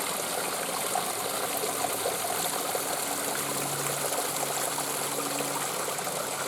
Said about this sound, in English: beautiful, beautiful nature, water sounds